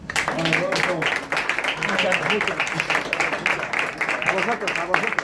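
Sustained applause from a crowd, steady dense clapping filling the space for several seconds without a break.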